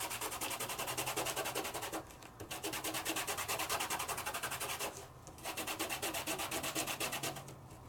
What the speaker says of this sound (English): Give it a little bit of a burnish just to set.